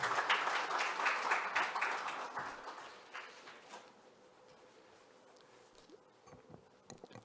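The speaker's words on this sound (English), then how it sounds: "Please welcome Dr. Peter Moore with a big round of applause" Audience applause welcoming Dr. Peter Moore to the podium at a forest risk management launch event, dense and loud at first, then thinning to scattered claps as it fades out.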